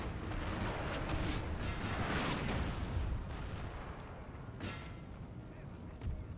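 Cannon and artillery fire in Napoleon: Total War, with a dense, distant battlefield rumble and scattered booms and gunshots rolling through, under faint talk.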